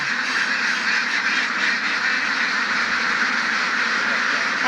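A large flock of ducks quacks continuously, a dense, loud chorus of overlapping calls close by.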